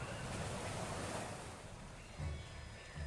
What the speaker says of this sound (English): The vessel was almost torn asunder by the crashing waves